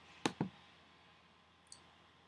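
Two quick, close computer mouse clicks in a quiet room, followed a moment later by a fainter tick.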